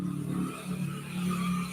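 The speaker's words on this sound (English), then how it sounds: "noisy traffic at the minute." Noisy street traffic in Thailand, a continuous close wash of car engines and passing vehicles with rising and falling swells, and no talk over it.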